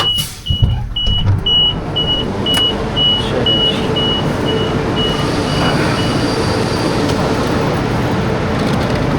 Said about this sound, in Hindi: ट्रेन हो गई रवाना।